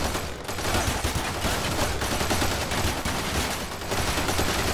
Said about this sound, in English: They're shooting something there.